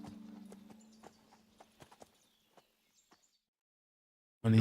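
Horse hooves clip-clop in a quick rhythm in Kingdom Come: Deliverance 2, then slow and fade to silence before a sudden loud burst at the very end.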